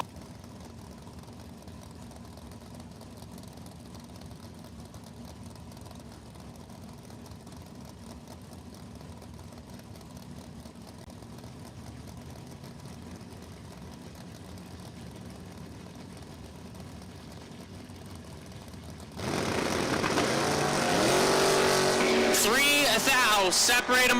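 Drag racing cars at Numidia Dragway during a second chance race: a low, steady engine drone for most of the stretch, then a sudden loud roar as the cars launch, with an announcer talking over it.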